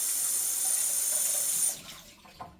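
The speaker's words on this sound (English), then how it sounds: "Another bowl that's got to go in the sink with water." A kitchen tap runs water into a sink to wash a bowl, a loud, steady gush that cuts off partway through, leaving faint clinks and drips.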